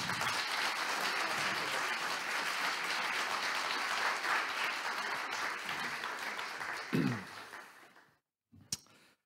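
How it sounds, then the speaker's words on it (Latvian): Applause from a large audience at a youth conference in Latvia as the Latvian president, Edgars Rinkēvičs, comes on stage, a dense steady clatter of many hands that thins and fades out, followed by a brief isolated clap. "tagad man liekas, ka būtu jātaisa visskaļākie aplausi"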